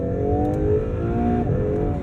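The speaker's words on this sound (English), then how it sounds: "hold my foot on the brake, pin the throttle, build up the revs, says launch mode is ready" An Acura NSX Type S launching from a standstill in launch mode, its engine roaring loudly and climbing steadily in pitch as the car accelerates hard, with rising harmonic whine and no talking.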